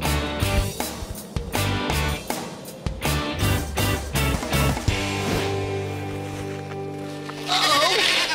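Sheep bleat repeatedly in a cartoon episode set on a snowy ski island, with several loud wavering calls layered over a busy music score, ending in a sustained chorus of bleats.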